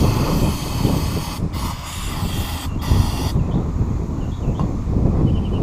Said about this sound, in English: Spray some carb cleaner up in here and try to get some of this old gas out.